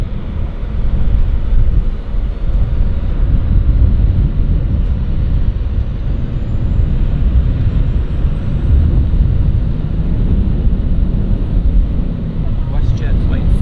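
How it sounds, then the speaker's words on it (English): Steady low rumble of a WestJet airliner departing Vancouver Airport bound for Winnipeg, broad and wind-buffeted, holding at a constant level with no change throughout. "WestJet flight heading off to Winnipeg"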